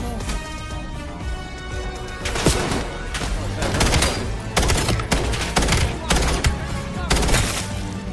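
Sniper rifle gunfire in the video game Call of Duty Black Ops 7 comes as a run of loud, close, sharp shots with booming tails over dense game noise, sometimes in rapid clusters.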